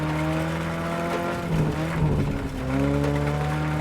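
A 1973 Alpine rally car races the Acropolis Rally in WRC 10, its engine revving hard and loud in a continuous drone, dipping briefly as it shifts before climbing again.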